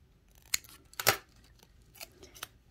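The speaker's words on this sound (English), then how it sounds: "So I'm gonna cut it again in half as close as I can." Scissors snip a nail polish strip in half, producing a few sharp close cuts with one longer, louder slice near the start and two lighter snips afterward, with no talking.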